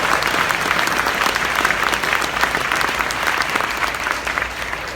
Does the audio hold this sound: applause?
yes